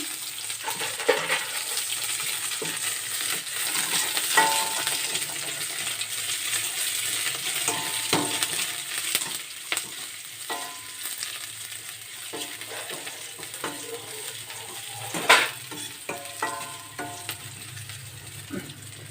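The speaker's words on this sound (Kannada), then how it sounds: "ಎಣ್ಣೆ ಬಿಸಿ ಆದಮೇಲೆ ಸ್ವಲ್ಪ ಸಾಸಿವೆ ಹಾಕ್ಕೊಳ್ಳಿ, ಸ್ವಲ್ಪ ಕರಿಬೇವಿನ ಸೊಪ್ಪು, ಸಣ್ಣದಾಗಿ ಕಟ್ ಮಾಡಿರೋಂತಹ ಈರುಳ್ಳಿ ಸೇರಿಸ್ಕೊಳ್ಳಿ" Mustard seeds, curry leaves and finely chopped onions frying in hot oil for a peanut sambar, a steady close sizzle with scattered popping and light clinks of a stirring utensil.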